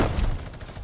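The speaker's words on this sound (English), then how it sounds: "Oh, minigun." A Fortnite minigun firing: a brief burst of rapid gunfire with a heavy opening boom, quickly thinning into fast repeated shots, loud and close for under a second.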